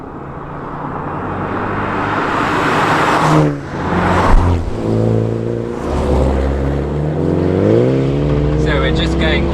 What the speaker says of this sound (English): So we're just going on a particularly bumpy B road